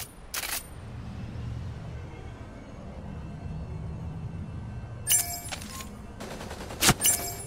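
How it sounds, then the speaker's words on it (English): Gunfire from the Hotsteel mech combat video game: a sharp burst near the start, then clustered loud bursts near the end over a steady low mechanical rumble, with no talking. "Shots heard!"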